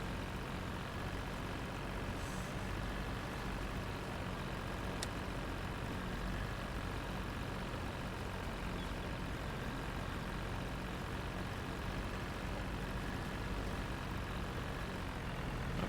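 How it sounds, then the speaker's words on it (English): A farm tractor engine runs steadily at a quiet, distant level, a low continuous rumble with no talk. "I've said it before, but this tractor is awesome. I love it. I just love the way it sounds"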